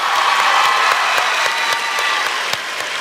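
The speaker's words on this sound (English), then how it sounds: "Clap for them, dang it!" A large convention crowd at a PAX West 2016 gaming panel applauds vigorously, a loud dense clatter of clapping with scattered sharper claps standing out, slowly easing off toward the end.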